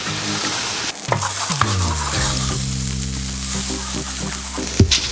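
Tortillas dipped in birria beef sauce hit a hot buttered comal with a loud, steady sizzle and crackle, broken by a few sharp clicks and scrapes as they are placed and moved.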